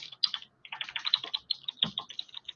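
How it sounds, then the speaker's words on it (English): Quick, light keystrokes on a computer keyboard in short runs with brief gaps, close and fairly quiet, no talking. "I'm going to type in students."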